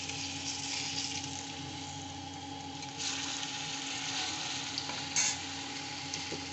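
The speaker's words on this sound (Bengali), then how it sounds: "একটু কম আছে ভাজছি" Food fries in a little oil in a pan with a steady soft sizzle and crackle, and an occasional stir or shift of the pieces breaks through. No one speaks.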